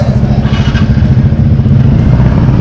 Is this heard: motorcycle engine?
yes